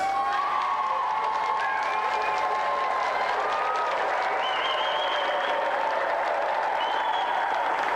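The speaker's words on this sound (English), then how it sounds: "Another round of applause for our special guest, Cathy Dennis." Dense applause from a large TV game show studio audience for a guest, with whistles and scattered cheers rising over the sustained clapping.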